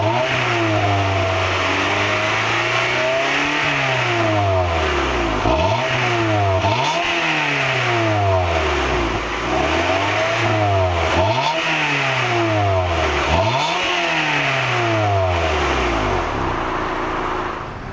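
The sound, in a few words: 1999 Honda Prelude engine revving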